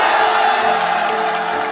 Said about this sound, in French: la nouvelle est reçue avec un tonnerre d'applaudissements